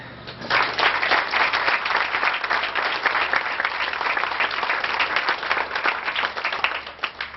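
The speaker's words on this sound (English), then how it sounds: "he'll probably hear us if we give him a round of applause" A school awards-night audience breaks into sustained applause, steady dense clapping from many hands filling the room at even loudness for several seconds with no talk over it.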